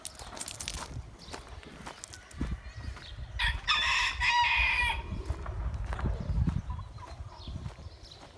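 A rooster crows loudly in a backyard coop holding Denizli, Brahma and other breeds, with clucking hens and scratchy movement around it; the crow stands out midway amid ongoing farmyard noise.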